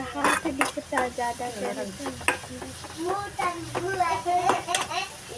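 A spoon stirs chopped vegetables with chili powder in a pan for a North Karnataka palya, producing repeated clinking and scraping over a light sizzle while someone talks throughout.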